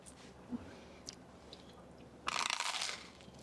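Crunchy chewing of a buttery mouthful, close and quiet, a few soft bites before a loud burst of crisp crunching, with no talking.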